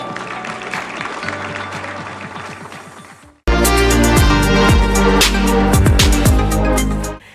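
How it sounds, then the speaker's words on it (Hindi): Loud applause fills the hall at the 68th National Film Awards ceremony in tribute to the late Sachchidanandan KR. It bursts in halfway through, sustained and dense over a music-like bed, after a quieter opening stretch. "स्वर्गीय श्री सच्चिदानंदन KR जी के सम्मान स्वरूप जोरदार तालियां।"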